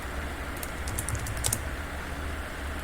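Keys clacking on a computer keyboard while a line of HTML code is typed during a coding tutorial: a quiet, steady run of small clicks over a low background hum, with no voices.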